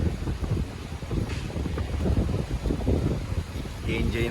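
Cold wind blows steadily and roughly against the microphone outdoors, a constant low rumbling buffet with a few faint voices in the background.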